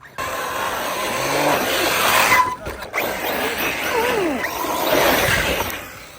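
A Team Corally Kagama RC car revs with a high whining electric motor, accelerates across sand and launches off a jump, its pitch rising and falling, with wheel and gravel noise close by.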